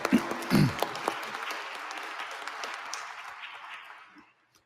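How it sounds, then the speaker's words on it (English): A community engagement forum audience gives a round of applause, a brief loud burst at first that settles into steady clapping and then fades away to near silence by the end. "Let's give everybody a round of applause."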